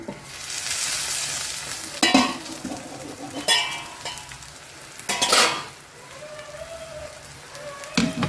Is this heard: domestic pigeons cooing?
no